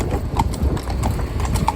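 Hooves of a pair of Friesian mares clip-clopping in a steady, close rhythm of sharp knocks, with faint background noise and no talk.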